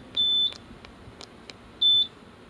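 Two sharp electronic beeps about a second and a half apart, each lasting a fraction of a second, with faint clicks between them: the oil change alarm reset beep of a Suzuki 300 fly-by-wire outboard motor.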